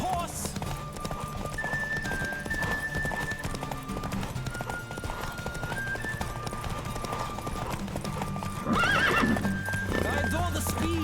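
Galloping hooves pound in a continuous rhythm in The Witcher 3, a horse neighing loudly toward the end above steady background game music.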